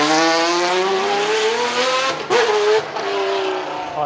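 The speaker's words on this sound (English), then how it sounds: "we could still achieve boost by putting superchargers on it, which will keep the sound and the note of the exhaust" A supercharged V12 drift car, noted as the loudest of its kind, screams at high revs with a sustained harmonic engine note, briefly lifting pitch with tire squeal before settling back, loud and close.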